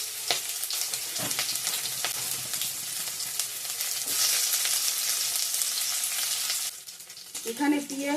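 Dried red chilli and bay leaf sizzle in hot oil as a tempering, a steady close frying hiss with intermittent stirring scrapes, easing off near the end as the pan is handled.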